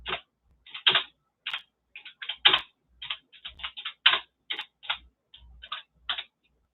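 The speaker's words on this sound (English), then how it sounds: "I guess I'll type it in." Typing on a computer keyboard, a close series of sharp, irregular key clicks in short bursts with brief pauses, alone in a quiet room.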